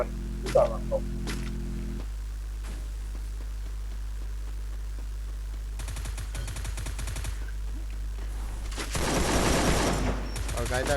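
Gunfire in an online multiplayer shooter game, with bursts of rapid, crackling automatic fire from mid-distance followed by a louder, denser volley near the end over a steady background hum.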